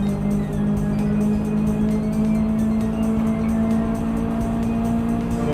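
Mazda Miata engine in Gran Turismo 7 at Dragon Trail Gardens in the rain, holding a loud, steady drone at near-constant revs for several seconds with no talk.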